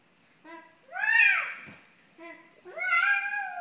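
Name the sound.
child imitating a cat meow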